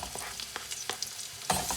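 Chopped onion fries in hot oil in a skillet on a gas stove, crackling and sizzling softly with scattered pops and stirring scrapes, rising to a louder sizzle toward the end.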